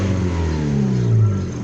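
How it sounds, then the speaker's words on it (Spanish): A Chevrolet Meriva car engine fitted with a new exhaust tip revs once, loud and close, in a sustained deep, rising roar that lasts just under two seconds. "Los despido con un pequeño acelerón."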